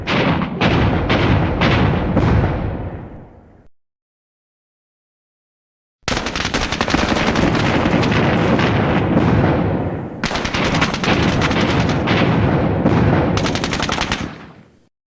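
Gunfire in the Squad Battles: Eagles Strike war game: loud, dense machine-gun bursts roll on, cut by a silent gap of a couple of seconds before the firing resumes.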